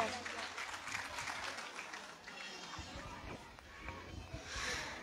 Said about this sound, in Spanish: Y fuerte los aplausos, a ver que se escuche.